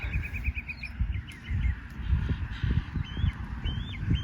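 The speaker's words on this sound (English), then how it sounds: "I gotta remember about that bird. She'll get me." Outdoors near oak trees, a bird gives short repeated chirping calls and thin rising notes, fairly faint over a low rumbling background; nobody speaks.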